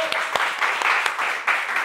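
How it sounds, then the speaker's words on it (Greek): Brief burst of applause during a Greek entertainment show, a dense patter of clapping with a few sharper claps, moderately loud and continuous for about two seconds. "Χειροκρότημα!"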